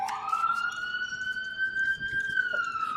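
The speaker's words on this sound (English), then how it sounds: "fire alarm, baby." An emergency siren wails as one loud, sustained tone that climbs slowly, holds, then dips slightly near the end, close and dominant over faint background noise.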